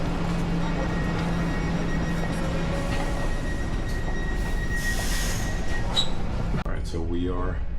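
Dutch passenger train running on rails toward Amersfoort, heard from inside a first class cabin: a steady rumble and rattle with faint squeals, and a brief voice near the end.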